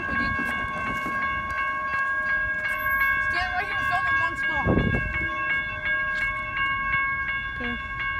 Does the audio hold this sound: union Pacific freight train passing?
yes